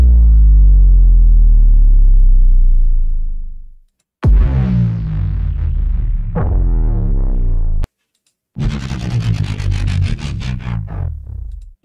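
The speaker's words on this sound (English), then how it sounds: "Let's play some downers." Cinematic trailer downer effects, three in a row: a deep, buzzing tone that sinks and fades, then two harsh, distorted, gritty bursts that slide downward, each cut off by a short gap.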